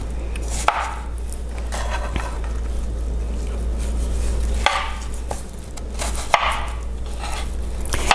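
A knife cuts watermelon into 1 inch cubes on a board: a few crisp chops at irregular intervals stand out over a steady low hum and hiss, with no talking.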